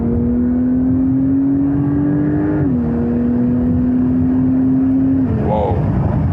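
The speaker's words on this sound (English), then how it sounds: "go back to third gear for example, and then I can accelerate out" A Porsche 911 Turbo S accelerates hard in third gear with a loud, rising engine whine and a brief dip as it climbs again, heard from inside the car.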